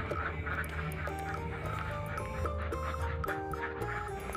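Laying ducks on a duck farm quack and honk continuously in a dense, overlapping chorus from a large flock, steady and moderately close with no talking.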